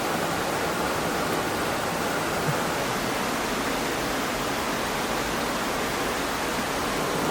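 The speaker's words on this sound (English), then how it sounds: "you can hear the actual sound of the river that they have right there" Steady, full rushing water noise fills the whole stretch, a constant broadband wash of a river flowing close by at a Hakone onsen in Japan, with no voices.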